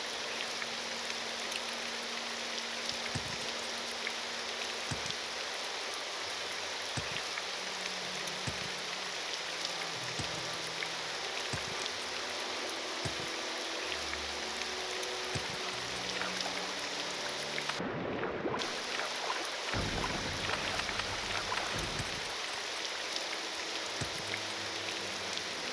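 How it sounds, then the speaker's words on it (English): Steady rain falls in Morrowind with the Tamriel Rebuilt mod, a dense continuous hiss of drops that stays even throughout, with faint low thuds and a brief gap partway through. "Ah, the dulcet rain."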